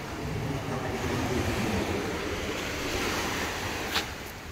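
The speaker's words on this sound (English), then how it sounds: "You can hear the waves from afar." Ocean waves on a Barbados beach wash steadily in a continuous broad roar, heard from a distance with a slight rise and fall.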